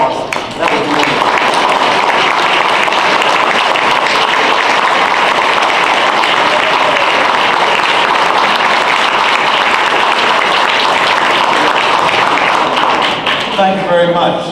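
A gala audience at a school benefit honoring past Spirit Medal winners applauds in a long, loud, unbroken wave of clapping that holds steady for many seconds before tapering at the end.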